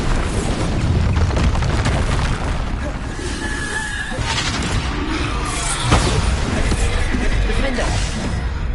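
Spell explosions in Hogwarts Legacy, a Bombarda blast among rapid combat casting, with loud booms and crashes over a dense, continuous battle din and a prominent thump near the end.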